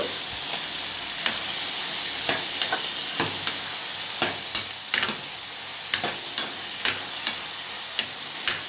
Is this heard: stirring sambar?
yes